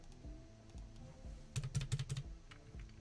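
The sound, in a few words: typing on a computer keyboard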